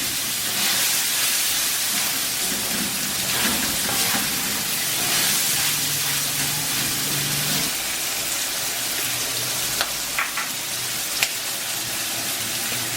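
Stir-fried prawn noodles sizzle in a pan over a high flame, a steady loud hiss and crackle that continues throughout with a few small clinks of a utensil near the end.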